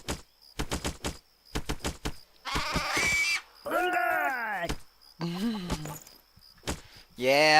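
Sheep in the video game Craft the World bleat in several drawn-out, wavering cries, broken up by bursts of rapid clicking and tapping game sound effects, all loud and close.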